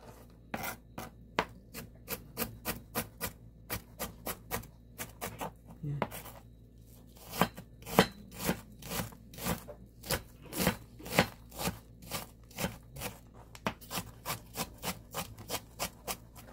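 A knife slices an onion thinly on a cutting board for Korean rolled eggs, a long run of crisp evenly spaced cuts close up, some in quick bursts, with a voice talking softly beneath.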